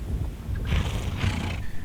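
Horses in a hillside pasture give two breathy, drawn-out neighs in quick succession over low rustling background noise, close by and fairly loud.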